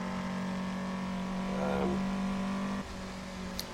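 A full-blown Lada racing car in the Assetto Corsa game drones with a steady, low, humming engine tone, rising briefly before dropping off near the end, moderately loud with no talk.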